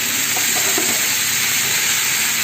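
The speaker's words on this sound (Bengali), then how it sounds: "দিয়ে ভালো করে আলু পটল সবগুলো জোর আঁচে দিয়ে ভালো করে আগে ফ্রাই করে" Pointed gourd (potol) and potato pieces fry in hot oil over a high flame, giving a steady, close broadband sizzle with faint stirring clinks and no voices.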